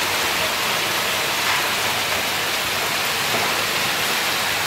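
Hailstones pelt steel without pause during a windy storm, a dense, loud hiss-like roar of countless impacts with no distinct individual hits and no voices.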